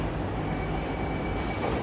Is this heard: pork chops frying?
no